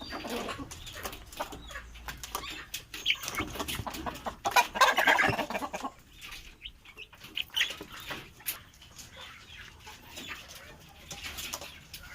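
Young chickens about six weeks old, hatched in an incubator on a small farm, cluck and peep steadily for the whole stretch, close by, with a louder flurry of calls in the middle and no talking.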